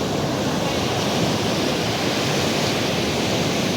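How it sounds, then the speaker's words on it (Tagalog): Big storm waves crash along the shore as a typhoon blows, an unbroken, loud wash of noise with wind rumbling against the microphone throughout. "Lalaka ng alon."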